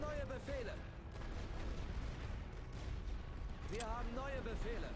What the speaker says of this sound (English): here comes the next artillery salvo